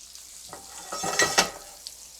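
A hot cast iron skillet sizzles while food is stirred in it, with a few spoon scrapes and bursts of frying rising and falling over about two seconds, close and moderately loud with no talking.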